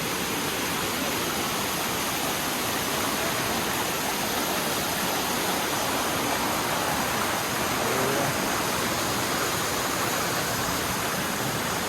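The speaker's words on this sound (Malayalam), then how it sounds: "ഇവിടെ ഇതാ ചെറിയൊരു അരുവി." A small stream flowing at the very top of a large waterfall at Palur Kotta makes a steady, dense rushing wash of water that stays close and constant throughout, with no voices.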